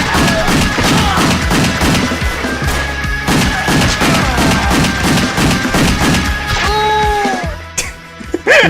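Sustained gunfire from the video game WET, dense rapid shots over a loud, driving game soundtrack, with a couple of sharper bursts near the end.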